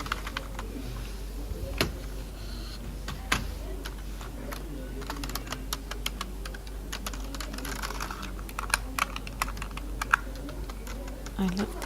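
Fingers tap steadily on a computer keyboard in an IKEA showroom, a quick irregular patter of close, crisp clicks with a few sharper knocks, continuing for the whole stretch under a low background hum.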